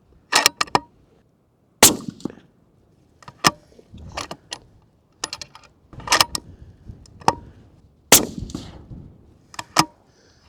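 A 6.5 PRC rifle fired during load development: several sharp, loud cracks with brief metallic clicks and clanks between them, separated by near silence.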